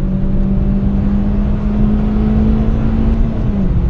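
Renault Clio 16S engine pulling hard from inside the car, a loud, close, steady droning tone with a sustained hum that holds almost level before easing off at the very end.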